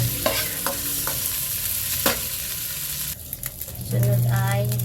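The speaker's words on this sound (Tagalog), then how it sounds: "Pwede lang haluin. Chicken breast nga pala to." Chicken breast stirred in a frying pan, a steady close sizzle broken by several sharp scraping strokes of the utensil, with the frying growing louder near the end.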